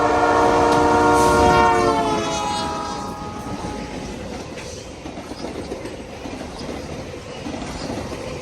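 A vintage Canadian Pacific special business train, with equipment dating to 1916, sounds a loud multi-tone horn blast as it passes close by, then the horn fades and the rumble and clatter of the cars carry on steadily.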